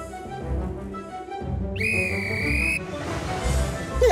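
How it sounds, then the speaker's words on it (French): A station master's sharp, shrill whistle blast sounds for about a second in the middle, over a busy background of low rumbling and clatter. "Il entend le coup de sifflet du chef de gare"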